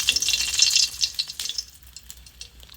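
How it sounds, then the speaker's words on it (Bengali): A broken dried red chili crackles in hot mustard oil in a wok, a bright, crisp sizzle that is strongest early and eases into scattered pops. "তেলে আমি দিয়ে দিচ্ছি একটা শুকনো লঙ্কা ভেঙে"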